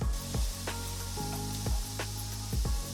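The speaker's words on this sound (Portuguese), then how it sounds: "deixa dar uma fritada no bacon e depois entra a calabresa para também fritar junto" Bacon fries in a pan with a steady, fairly loud sizzle and hiss, while repeated low thuds and scraping strokes of stirring come in a loose rhythm.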